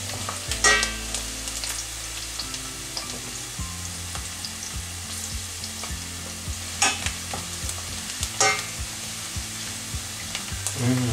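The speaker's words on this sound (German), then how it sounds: "Geröstete Zwiebeln." Onions roasting in a pot, a continuous close sizzle and crackle with repeated stirring scrapes and utensil taps, a low steady hum running underneath throughout.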